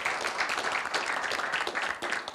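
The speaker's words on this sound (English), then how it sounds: "Let's give her a round of applause" Brief audience applause at an innovation awards ceremony, a fairly quiet but steady patter of many hands clapping that lasts a couple of seconds.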